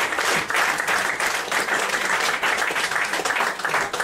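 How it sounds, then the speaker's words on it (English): Loud, close audience applause for volunteers at a live stage magic show: a thick, continuous wash of clapping from a crowd that holds steady throughout. "Give them all a round of applause and make way for us."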